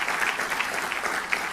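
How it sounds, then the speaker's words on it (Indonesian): A church congregation applauds steadily throughout, a dense, continuous clatter of many hands at a moderate distance with no voices over it. "Tepuk tangan buat Tuhan."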